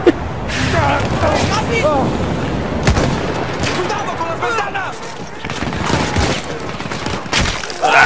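Rapid bursts of gunfire crack repeatedly over several seconds in the video game Battlefield 1, loud and close, with game-like booms, while a voice talks excitedly in Spanish over the shooting.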